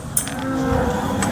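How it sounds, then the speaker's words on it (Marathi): Gir cow lowing once at the Sangola cattle market, a loud, drawn-out moo close by with faint market noise around it. "बघू शकते गिर गाय आहे"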